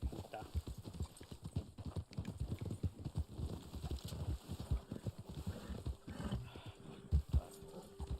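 Horse hooves clip-clop rapidly and steadily in the video game Red Dead Online, fairly faint, with a voice talking over parts of it.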